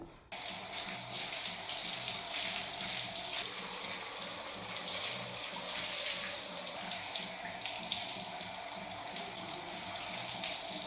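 Water pours steadily from a tap during hair rinsing, a constant close hiss and splash that begins abruptly and carries on unbroken with no voices.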